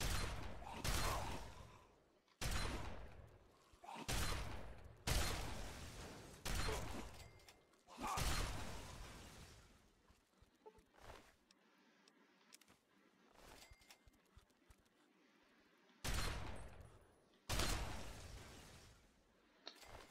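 Shotgun blasts in Fallout 3: about ten heavy booming shots spread across the stretch, each loud and sharp with a decaying tail, separated by quieter gaps of game ambience.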